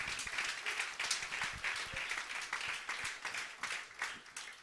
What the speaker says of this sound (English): we can give a hand clap of praise